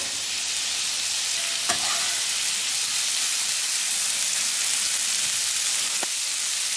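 Onions cook slowly on a flat griddle to caramelize beside a tri-tip cheeseburger, giving a steady, even sizzle throughout with two brief scrape or tap clicks and no talking.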